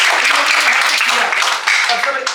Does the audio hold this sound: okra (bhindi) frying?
no